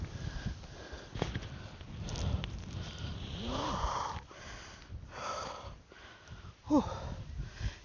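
Heavy, sniffing breaths from a hiker out of breath on Mt. Gulugod Baboy, close to the mic, with irregular gasps and shuffling steps; sharper exhalations stand out near the end.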